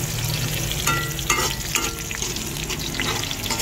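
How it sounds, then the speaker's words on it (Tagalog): Garlic and onion fry loudly in a pan for a potato and egg dish, a dense close sizzle with spatula stirring and light scraping throughout, no voices. "Brown ang garlic."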